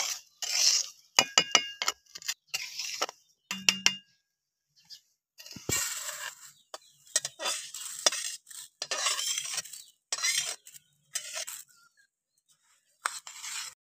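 Rice being fried until reddish in a kadai and stirred, heard as close, intermittent bursts of metallic scraping and clinking with brief pauses between strokes and a light sizzle, with no talking.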